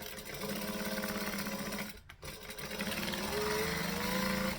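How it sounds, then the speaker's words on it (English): Sewing machine stitching forward and back stitching through the fabric of a triangle bag, a close, steady rapid whirring chatter with a brief pause midway before the motor resumes. "So we're going to stitch, back stitch."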